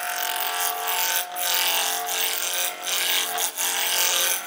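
A roughing gouge cuts a spinning wooden blank mounted between centres on a lathe for a cheese serving board, a loud continuous rasping scrape with brief dips as the tool lifts, no talk.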